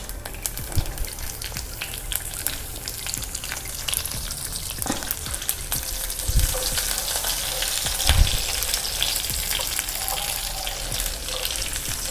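Fenugreek seeds, two dried red chillies and curry leaves crackle in hot oil for a South Indian kootu tempering, giving a loud, dense, continuous sizzle with a couple of heavier bursts partway through and no talking.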